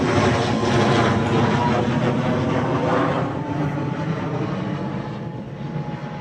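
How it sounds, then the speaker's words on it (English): Airplane passing overhead at an outdoor archery clinic, a steady broad engine roar that holds loud for a few seconds and then slowly fades as it moves away, with no talk. "we'll let this plane pass by"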